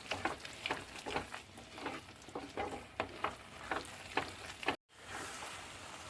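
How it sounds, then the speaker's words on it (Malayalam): Spiced masala for a sardine roast sizzles in a pan while a spoon stirs it in quick rhythmic strokes, close and moderately loud, with a brief dropout near the end and no voices. "നല്ലോണം ഇളക്കി മസാല നന്നായി മൂക്കട്ടെ"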